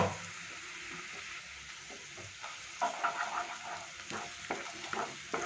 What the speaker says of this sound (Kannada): ಒಂದು ಸ್ಪೂನಷ್ಟು ಶುಂಠಿ ಬೆಳ್ಳುಳ್ಳಿ ಪೇಸ್ಟ್ನ ಹಾಕ್ತಾ ಇದ್ದೀನಿ